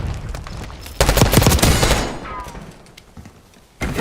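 A loud burst of rapid automatic gunfire in Black Ops 6 multiplayer, preceded by scattered shots and followed by quieter distant fire, with a radio-style voice heard across part of it.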